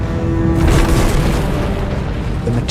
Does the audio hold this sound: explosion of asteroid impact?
yes